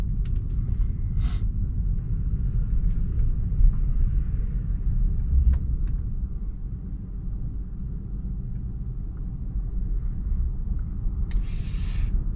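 Steady low engine and road rumble from a car driving itself during a Full Self-Driving test on city streets, continuous and close throughout, with a couple of brief higher clicks and no talking.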